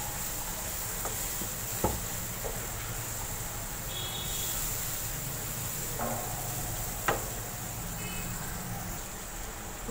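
Spices and garlic fry in a pan with a faint, steady sizzle that runs the whole time, broken by a few light clinks of a utensil.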